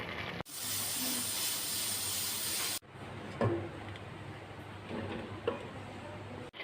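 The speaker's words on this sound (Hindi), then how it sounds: "मैं इसको प्रेशर कुकर में तकरीबन 5 मिनट के लिए प्रेशर लगाऊंगी" A pressure cooker steaming turnips gives off a loud, steady hiss close by for about two seconds, then stops abruptly and leaves quieter kitchen sounds with a few soft knocks.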